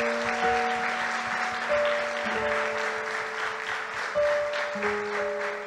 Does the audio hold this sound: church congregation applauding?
yes